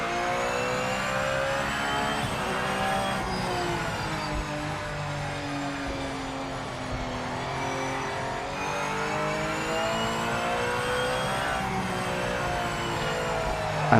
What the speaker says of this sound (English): I'm not sure about the sound though, compared to MS2, the way this car sounds there.